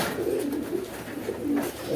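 White Beauty pigeons kept on a pigeon farm coo close by, with several low rolling coo phrases repeating steadily over soft background noise and no talk.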